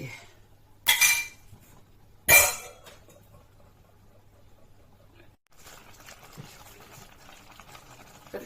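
A pot of curry with striped catfish and pickled wild garlic bubbles faintly in the background, broken early on by two sharp clinks of a utensil against the pot.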